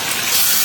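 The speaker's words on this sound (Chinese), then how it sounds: "加入清水" Clear water gushing into a clay pot of pork intestines and seasonings, a brief steady splashing pour, close and fairly loud.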